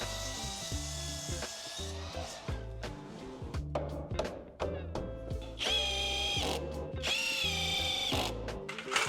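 A power drill drives screws into a small box built around HVAC ductwork, with short whirring bursts, stops and rising motor whines between scraping and knocking of the workpiece, close up and without talk.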